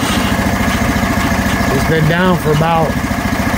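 A Hud-Son portable sawmill engine runs at a steady, loud idle close by, its low throbbing hum continuing underneath someone talking.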